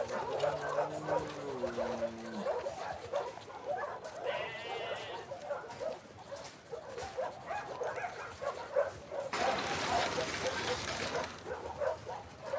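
A dog in The Last of Us Part II video game whimpers in thin, rising whines, then gives a few short barks. The sounds are moderately close, over a steady background of game ambience.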